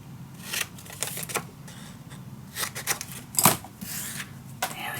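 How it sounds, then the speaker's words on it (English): Scissors snipping the corners of paper pages for a steampunk mini album, a few short crisp cuts and papery rustles scattered close by in a quiet room. "now I'm going to cut the corners"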